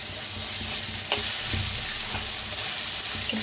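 Peanuts dry-roast in a pan, stirred with a continuous rattling scrape and a few sharp clacks of the spoon against the metal, close and fairly loud.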